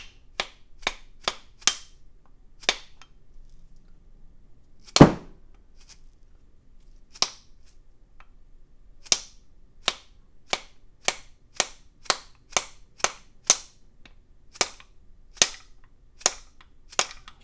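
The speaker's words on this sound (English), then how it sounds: "find a socket that's, you know, about that big, and just kind of give it a tap" Metal socket tapping to knock carbon loose, a series of sharp, close metallic taps in an irregular rhythm with one heavier knock, then quickening light taps.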